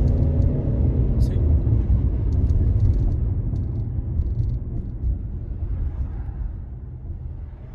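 A car with a 1400 cc engine pulls uphill in Quito traffic, a deep steady engine rumble heard from inside the cabin that slowly eases, with a voice talking over it.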